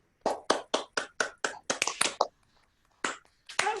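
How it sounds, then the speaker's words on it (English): Participants on a video call applaud after a bagel and challah baking session: about a dozen crisp, evenly spaced claps in a quick run, a brief pause, then a few more claps, fairly close and clear. "Unmute and applause."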